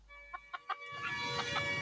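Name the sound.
chicken clucking in the film City of God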